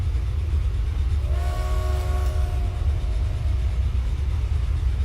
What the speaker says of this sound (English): we got trains pulling in and out of here left and right